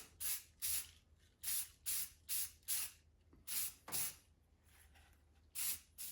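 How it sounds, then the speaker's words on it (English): Short bursts of Painter's Touch flat gray primer from an aerosol can onto a carved ringneck drake decoy, about ten separate hissing sprays of uneven length with brief pauses between them, close and fairly loud, no talking. "Painter's Touch Flat Gray Primer"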